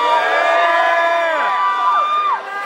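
A concert crowd cheers and whoops loudly in a continuous wash of high shouts and drawn-out cries, with voices sliding and fading toward the end.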